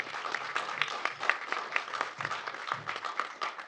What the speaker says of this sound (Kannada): ಅವರಿಗೊಂದು ದೊಡ್ಡ ಚಪ್ಪಾಳೆ ಬರಲಿ